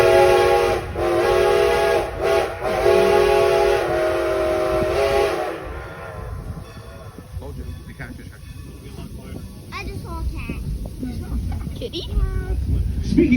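Strasburg Railroad steam train sounds its whistle near Carpenter's Crossing: loud sustained blasts with short breaks for about five seconds, then rolling train rumble and clatter while people talk.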